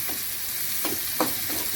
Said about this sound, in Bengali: এই কড়াইয়ের মধ্যে আমি রসুন কুচি পেঁয়াজ কুচি কাঁচামরিচ রে আর একটু শুকনা মরিচ ভেজে নিচ্ছি